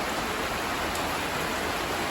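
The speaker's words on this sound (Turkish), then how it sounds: "Evet yağmur başladı." Heavy rain pouring down outdoors as a downpour begins, a dense, steady hiss filling the air with no break and no voices.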